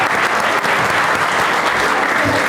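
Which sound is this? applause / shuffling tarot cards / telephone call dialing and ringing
applause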